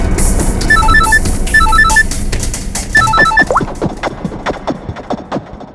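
An electronic phone ringtone trills in repeated bursts over a busy, cluttered background, followed by scattered clatter and knocks.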